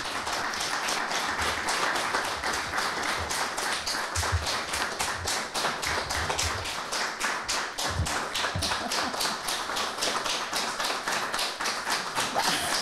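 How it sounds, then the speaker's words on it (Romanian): A theatre conference audience applauds after a talk, with steady, dense clapping that carries on evenly throughout, loud and close with no voices over it. "aceste aplauze"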